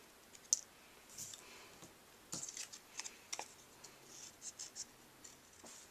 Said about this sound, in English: we're going to cut out our wings using our paper snips